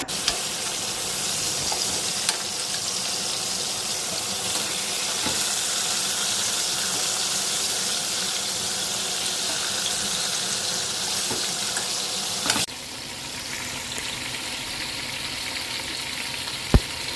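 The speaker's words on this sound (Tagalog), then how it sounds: "Nakikita nyo ang ganda na paka-fry ko, no?" Persian fish frying in a pan for adobong isda, a steady broad sizzle that runs close and loud, with a brief clatter near the end before it settles slightly quieter.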